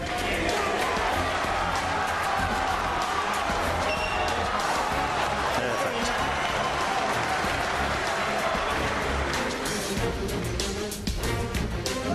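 A packed arena crowd roars and applauds at the 1998 snooker Masters final between Stephen Hendry and Mark Williams, a loud sustained wall of clapping and cheering with a commentator's voice over it.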